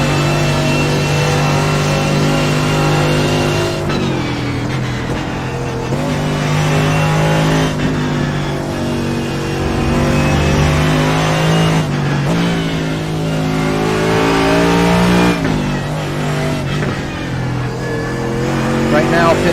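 Race cars revving and screaming around Canadian Tire Motorsport Park in the iRacing video game, a loud, sustained engine whine that rises and falls with gear changes, with a commentator talking over it.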